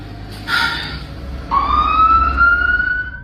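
An ambulance siren rising in pitch, a short blip followed by a longer sweeping wail, fairly close and loud over low road rumble.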